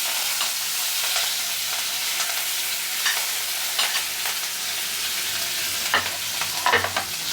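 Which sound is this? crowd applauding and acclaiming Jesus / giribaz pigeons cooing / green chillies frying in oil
green chillies frying in oil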